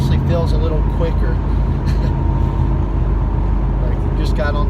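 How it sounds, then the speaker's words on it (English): Engine of a 1997 Camaro with a repaired exhaust leak hums in a steady, smooth low drone at interstate speed, heard from inside the car with road noise and a person talking over it. "you can hear that engine without that exhaust leak. It just purrs."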